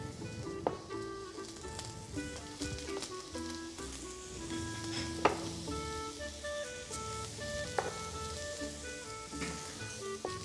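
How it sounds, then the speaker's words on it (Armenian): Pear slices sizzling quickly in a hot pan with a little fat, a steady close crackle with a few sharp pops and spits, no talking. "շատ արագ տապակում ենք"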